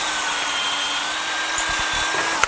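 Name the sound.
long aircraft drill drilling through hardened bushings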